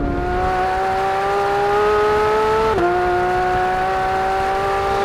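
A very fast car accelerates hard on a race track, its engine note climbing steadily in one long loud pull, dipping briefly at a deliberate early upshift, then rising again through the next gear.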